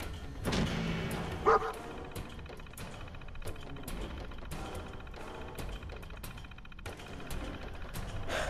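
Dogmeat, the dog companion in Fallout 4, gives several close, loud barks and yips in an uneven rhythm over game sounds.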